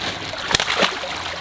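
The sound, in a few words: water splashing as a koi fish is lifted and moved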